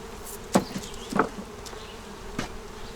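Honeybees buzz steadily in the background during a hive inspection, with a few louder passes as bees fly close by, three distinct swells over a few seconds.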